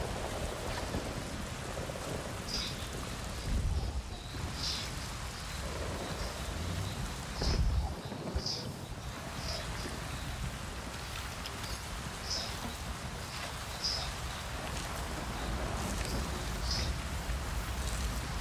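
Constant rainfall hisses throughout in the video game Avatar: Frontiers of Pandora, with a couple of soft low rumbles and faint distant chirps scattered over it.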